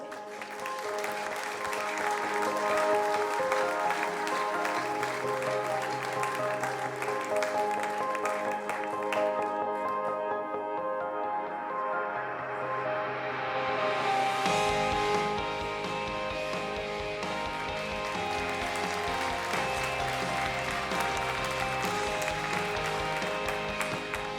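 A press conference audience applauds steadily and loudly for about twenty-four seconds, the clapping mixed with music playing throughout.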